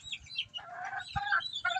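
Backyard hens, some of them sick, cluck and squawk in short bursts, close and clear, with no voices over them.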